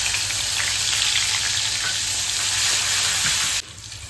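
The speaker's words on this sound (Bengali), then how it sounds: "পেঁয়াজগুলো ভাজা ভাজা হতে থাক, হালকা ভাজা ভাজা হলে এরপরে দিয়ে দেবো রসুন।" Chopped onions sizzling in hot oil in a pan for a taro stem dish, a loud, steady close-up frying hiss that drops off sharply near the end, with no voices.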